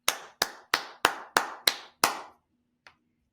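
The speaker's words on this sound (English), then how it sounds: "So let's clap this one." Seven sharp single hand claps in a slow, even rhythm, each crisp and close with a short decay, followed by one fainter tap after a pause, in a quiet room with no talking.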